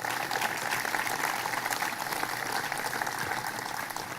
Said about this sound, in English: Give him a round of applause for his great work.